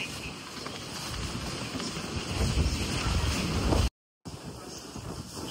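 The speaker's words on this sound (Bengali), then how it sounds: "ভীষণ জোরে হাওয়া দিচ্ছে বাবা।" Strong, gusting wind blows outdoors near a station platform, a loud continuous roar buffeting the microphone, broken by a brief dropout near the end.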